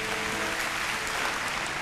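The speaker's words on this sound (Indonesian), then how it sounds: "Kasih tepuk tangan untuk Tuhan Yesus yang percaya." Steady, full applause fills a church as the congregation claps together, a thick continuous wash of hands with no voice standing out.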